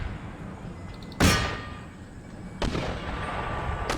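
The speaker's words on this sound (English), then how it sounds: "The old mortar shells going over." Two sharp mortar blasts in Empire Total War, several seconds apart, each a sudden loud crack that rings out over a steady rumble of battlefield noise.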